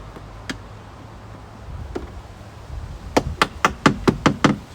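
Plastic trim clips being tapped into place on a BMW E46 M3, a couple of isolated knocks followed by a rapid run of about seven sharp, close taps.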